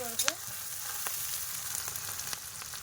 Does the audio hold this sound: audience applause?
no